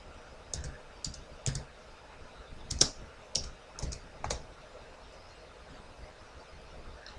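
Keystrokes on a computer keyboard entering a short terminal command while checking the npm version during an Angular 5 setup, a handful of separate soft clicks spread over several seconds in a quiet room.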